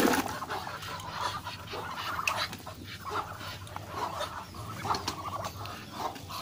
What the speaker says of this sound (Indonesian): Jadi entok sangat menyukai jambu yang telah kita cacah ini.